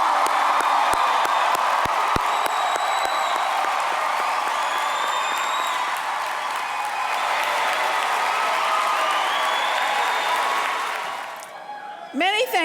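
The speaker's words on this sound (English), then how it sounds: "Let's applaud the members of the SCAD Atlanta class of" Sustained applause and cheering from a large crowd at the SCAD Atlanta class of 2017 commencement ceremony, steady and loud for about eleven seconds before fading out at the end.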